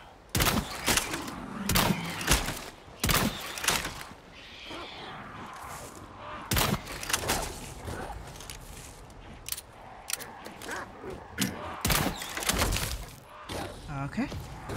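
Gunfire in Resident Evil 4 as enemies are shot, loud sharp reports coming singly and in quick clusters across the scene with someone talking between shots.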